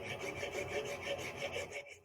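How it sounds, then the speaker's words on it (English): A hand file rasps across the bearing mount surface of a Talon A600 drive assembly in steady back-and-forth strokes, about a dozen quick rhythmic scrapes, close and clear with no talk. "Normally, a little filing is necessary to obtain the correct angle."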